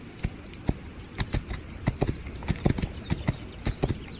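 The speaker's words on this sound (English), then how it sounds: "Oh, did they have a horse? Take a horse." Horse hooves clip-clopping in the western survival game This Land is My Land, an irregular series of sharp, fairly close clops at a walking-to-trotting pace over faint ambience.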